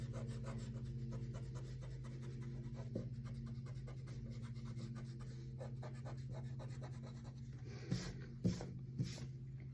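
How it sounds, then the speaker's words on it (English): An eraser rubs over pencil lines on a paper panda painting in quick repeated strokes. The rubbing is faint and close, with a few firmer scrubs near the end. "We're going to erase any pencil lines that are still showing."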